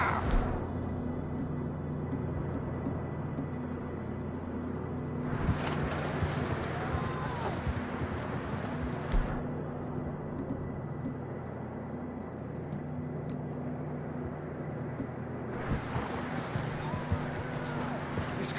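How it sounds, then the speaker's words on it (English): Hoofbeats of horses galloping in Red Dead Redemption 2 run as a steady clip-clop through the clip, with a low rumbling game soundscape and a voice shouting now and then over it. "I don't think we can go much further on the horses."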